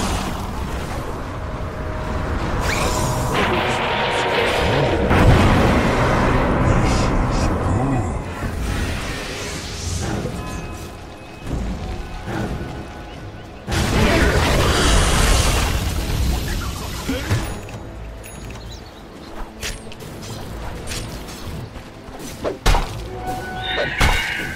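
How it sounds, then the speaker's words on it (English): A middle tower being attacked in a Dota 2 match, heavy thumps, thuds and booming impacts in uneven bursts with quieter gaps between, heard under ongoing commentary. "Radiant's middle tower is under attack."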